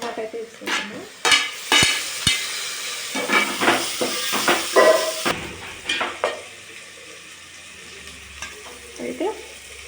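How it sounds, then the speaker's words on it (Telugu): Onions with ginger fry in a pan, sizzling and hissing under repeated stirring scrapes and clinks in a steady, close rhythm, with a brief voice speaking. "ఉల్లిగడ్డ అయితే ఎర్రగా మగ్గింది కాబట్టి అల్లం వేసుకుంటున్నా."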